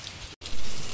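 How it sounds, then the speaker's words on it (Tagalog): Steady rain hissing on a surface in the morning outside a small shop, a continuous broadband wash with a brief dropout midway, alone with no talk. "May ulan"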